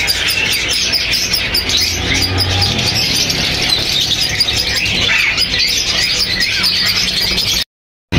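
Plum-headed parakeets at a bird market chirp and squawk in a dense, continuous chatter of many birds close by, loud throughout before cutting off abruptly at the end.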